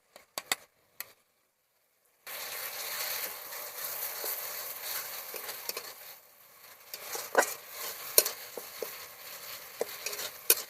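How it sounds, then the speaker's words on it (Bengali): Ginger-garlic and dried red chili paste fries in a pan for a rohu fish and elephant foot yam curry, a steady broadband sizzle starting after a brief pause, with scattered spatula scrapes and taps along the way. "আদা রসুন শুকনো লঙ্কা বাটা দিয়ে একটু ভালো করে কষিয়ে নেব।"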